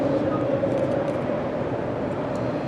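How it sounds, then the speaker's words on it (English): A train passing by, a continuous loud low rumble with a steady droning tone, close and unbroken for the whole stretch, with no talk over it. "I'll wait for the train to go by."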